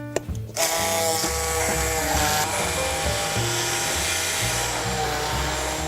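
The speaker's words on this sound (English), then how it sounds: "We're going to blitz this until it's smooth and velvety." A blender blitzes figs with salt and black pepper after a brief clatter, settling into a loud, steady motor whir and churning grind that runs close and continuous to the end.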